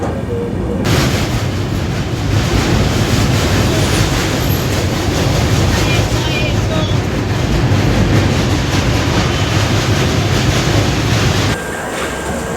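A moving passenger train runs on the rails with a loud, constant roar and rattle that holds steady throughout, heard from on board and easing slightly in the final second.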